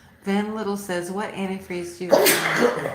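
A quick sneeze breaks in at the end of a man reading a viewer question aloud on a live car show, close and fairly loud, following steady talk.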